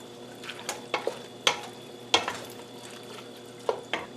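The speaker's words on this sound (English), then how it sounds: "Now I'll give that a stir." A spoon scraping and knocking in a pot of southwest chicken chili in short irregular strokes, soft sizzling underneath.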